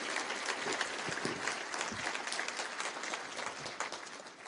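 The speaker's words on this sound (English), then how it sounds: "Could we give a round of applause for the elected officials who've joined us here as well?" An audience at a public forum applauds elected officials, with dense, sustained clapping from a large crowd that holds steady throughout and fades slightly at the end.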